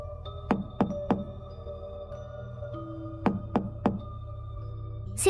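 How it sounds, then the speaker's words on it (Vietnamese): Knocking on a door in a horror cartoon: two quick bursts of three sharp knocks each, with a pause between, over a low steady background hum. "Liên tiếp 3 lần gõ cửa"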